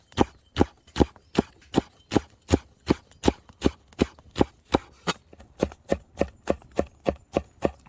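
A knife chops food in fast, even strokes beside a large fire pit outdoors, each sharp close-up hit landing in a steady rhythm of about three per second, with no voices.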